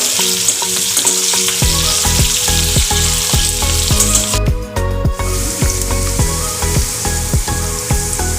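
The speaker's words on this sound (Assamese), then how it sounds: "পিঁয়াজখিনি মই অলপ সময়লৈ ভাজি থাকিম" Steady, loud sizzling of onions frying in hot oil, with rhythmic clinks and scrapes of a utensil stirring the pan throughout.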